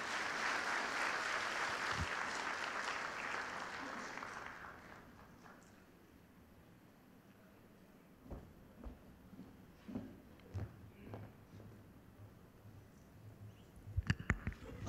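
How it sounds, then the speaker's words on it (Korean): Audience applause greets the opposition party emergency committee chair at a commemoration ceremony for an inter-Korean summit declaration, a broad clapping wash that fades after a few seconds into quiet room noise with scattered knocks. "여러분들 큰 박수로 맞아주시기 바랍니다."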